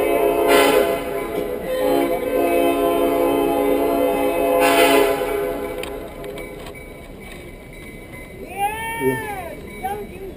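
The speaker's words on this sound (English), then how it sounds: "I think that if we'd done a rebel yell, we could drown that whistle out." A train whistle blowing at an outdoor memorial service at Stone Mountain, two long sustained blasts over crowd murmur and talk, followed by a fainter wavering tone near the end.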